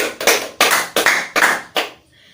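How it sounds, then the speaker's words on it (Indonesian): A high school physics class gives a classmate a round of applause in five short, loud bursts of clapping in a rhythmic pattern, ending in quiet. "Berikan tepuk tangan yang meriah untuk teman kita yang sudah bertanggung jawab"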